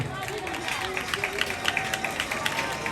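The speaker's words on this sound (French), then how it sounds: "Un applaudissement pour eux." Applause from a school crowd honouring its educators at a student presentation event, steady clapping with scattered sharper claps blended into a murmuring room over a continuous babble of voices.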